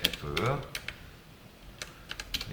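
Code being typed on a computer keyboard for a Java exercise, with light scattered key clicks in short bursts, close and fairly quiet, while someone speaks in Korean over the start.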